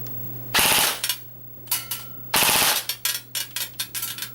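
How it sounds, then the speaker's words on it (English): An Echo1 614 airsoft gun running on a 7.4 volt LiPo battery fires full auto in loud, rapid buzzing bursts, two long strings followed by a series of short trigger pulls, close up over a steady electrical hum. "Let's go ahead and fire it in full auto and see"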